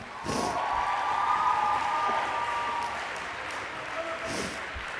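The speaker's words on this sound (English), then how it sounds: "Can we give her a big round of applause?" An audience at a school sports banquet applauds in a steady wash of clapping, moderately distant and soft, with a voice speaking over it near the start and end.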